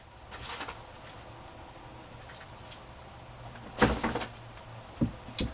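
Wooden drawer being pulled open and handled while reaching for tape, a soft slide near the start, then quiet rummaging, and a sharper knock and scrape later followed by a couple of smaller bumps, close by, with no speech.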